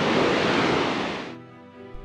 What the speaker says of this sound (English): Next morning, in front of Slovenia's highest waterfall